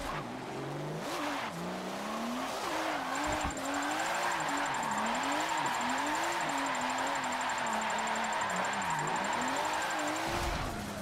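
A roughly 530-horsepower twin-turbo drift car in Forza 7 revs and wails steadily on street tires, its engine pitch rising and falling in repeated waves with tire squeal, loud and continuous for about ten seconds.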